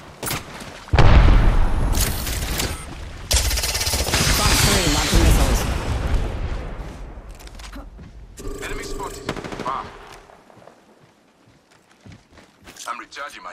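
Gunfire in the video game Apex Legends comes as loud, dense bursts of shots and booms that repeat and fade, with game voice lines and footsteps between them.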